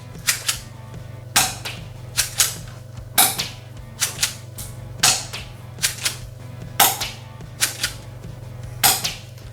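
A tan KELe Glock G17 spring-fed manual airsoft pistol fires shot after shot, each a sharp mechanical snap with a clack, spaced about a second apart, close and fairly loud over a steady low hum.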